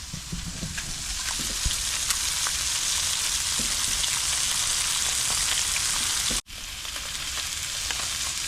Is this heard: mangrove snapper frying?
yes